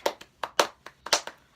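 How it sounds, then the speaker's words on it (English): Hand clapping in several separate bursts, sharp and close, with uneven gaps between the claps and no voices. "We applaud you."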